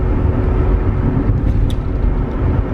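Interior of a 2006 Nissan on the move, a loud steady low engine and road rumble with faint brief squeaks, no talking.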